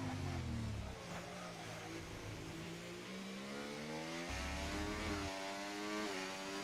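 F1 24 racing car engines on a virtual track at the China round, a high revving whine climbing and dropping through gear changes, with a second car's engine layered in, fairly faint and without talk.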